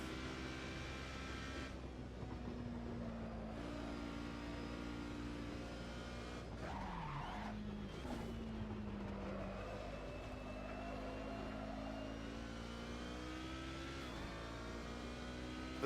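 A Ginetta G55 GT4 race car laps Oulton Park in Assetto Corsa, its engine droning steadily from the cockpit with rising and falling revs through gear changes and a brief dip mid-lap, moderately quiet throughout.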